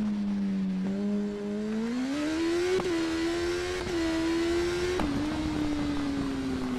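BMW S1000RR superbike engine in TT Isle of Man on Xbox One X: a loud, steady high-pitched inline-four whine that climbs in pitch with sharp blips at gear changes, alone without talk.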